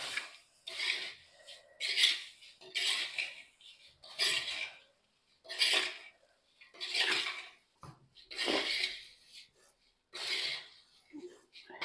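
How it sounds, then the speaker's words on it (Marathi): Dry poha chivda ingredients being tossed and mixed in a bowl, about a dozen evenly spaced rustling, scraping strokes in a steady rhythm, close and clear, with gaps of quiet between them. "आता हे सगळं मिक्स करूया."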